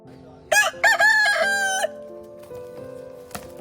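A rooster crows nearby on a farm with cows, ducks and rabbits, one long, loud call with a clipped start, followed by quieter clucking and faint background sounds.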